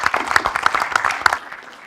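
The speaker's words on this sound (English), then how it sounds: "So big round of applause to this team." Brief scattered clapping from an audience at a wood-design hackathon finals, a handful of sharp claps over a steady patter that thins out toward the end.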